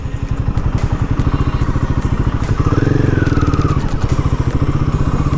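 A Royal Enfield Guerrilla 450 motorcycle idles close by while being parked, its single-cylinder thump beating in a fast, even rhythm with a brief rev swell midway, no voices.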